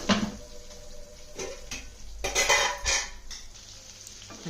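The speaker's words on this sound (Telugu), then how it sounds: "మన వంకాయలు చక్కగా వేగిపోయినవి" Eggplant pieces for a coconut-chili dry curry stirred in a hot pan, scraping and sizzling with clinks of a metal spoon against the vessel, a steady close frying hiss under irregular stirring strokes.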